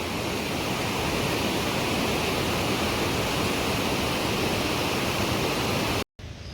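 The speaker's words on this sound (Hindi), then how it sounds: "ऊपर वाला झरना भी बौखला गया है" A loud, steady roar of a waterfall fills the clip, a dense continuous rush of falling water that cuts off briefly near the end.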